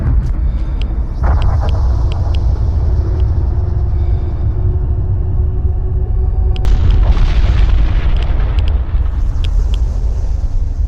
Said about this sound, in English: the Fallout Storm, which will drop nukes randomly around the map